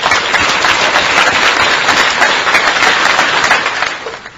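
Loud, steady applause from an audience in a hall, continuous clapping filling the space for about four seconds before tapering slightly at the end.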